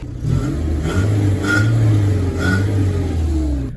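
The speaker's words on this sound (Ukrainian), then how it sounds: "Зробили мені вихлоп на Рено і зараз буде перший запуск." A Renault engine with a newly fitted exhaust starting for the first time, then revving in several rising and falling bursts, close and loud with no talk.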